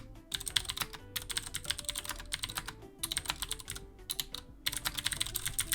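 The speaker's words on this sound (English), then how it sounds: "here I am in a game with the extremely clicky keyboard" Rapid, sharp clicking of a clicky mechanical keyboard during a Minecraft game, typed in fast bursts with brief pauses between, loud and close with no talking.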